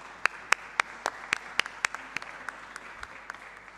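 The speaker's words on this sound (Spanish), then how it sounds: "Un aplauso para vos." Sparse, sharp handclaps ring out in a fairly regular rhythm, a small group applauding softly at a distance during a council session.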